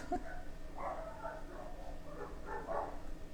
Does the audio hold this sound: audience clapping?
no